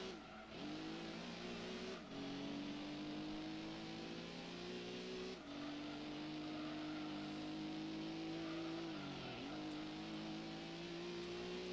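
Toyota Celica engine in Gran Turismo 2, a steady droning rev that climbs in pitch and then drops sharply at each gear change, about four shifts, with a faint tire squeal, no talking.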